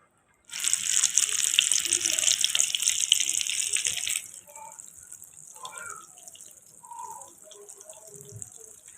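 Chicken and chana dal kebabs fry in hot oil with a loud, steady hiss for about four seconds, then the sizzle drops to a quieter crackle with a few soft knocks.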